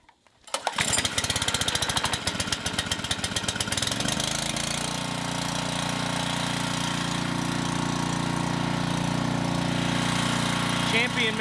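Champion gas power washer engine, left sitting outside for a month, is pulled and sputters for a few seconds, then settles into a loud, steady running drone close at hand.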